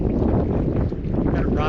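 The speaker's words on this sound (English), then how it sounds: "Oh boy, that wind is something." Strong wind at a mountain lake roars and buffets the microphone in a loud, continuous rumbling gust that never lets up.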